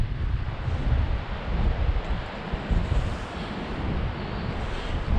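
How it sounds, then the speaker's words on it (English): Outdoors on a walk along a lost railway line in Cumbria, strong wind buffets the microphone, producing continuous low rumbling gusts that rise and fall throughout, with no voices. "it's going to be too noisy with the wind"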